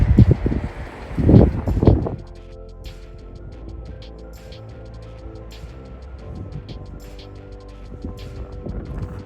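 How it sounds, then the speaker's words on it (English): A couple of strong wind gusts roar across the microphone at the start, then settle into a quieter, steady outdoor breeze on a desert trail. "It's windy out there."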